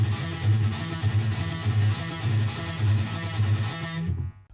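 Electric guitar through an amp plays a selective picking triplet exercise, fast distorted notes in rolling groups of three, loud and upfront, then cut off sharply near the end.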